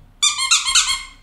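A squeaky teddy bear toy gives two or three loud, high-pitched squeaks in quick succession, close up and with no voices.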